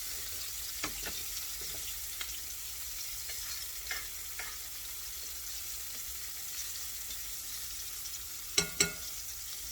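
Pork backstrap frying in a pan, a steady faint sizzle running throughout with a few soft stirring clicks and a sharper clatter near the end, no voices.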